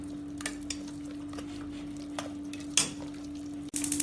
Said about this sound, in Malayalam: ഇനി ഇതെല്ലാം കൂടി നല്ലോണം ഇളക്കി മിക്സ് ചെയ്യാം